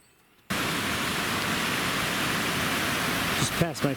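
Creek water at a trail crossing rushes in a steady, broad hiss close by, starting abruptly and continuing evenly, with a brief voice near the end.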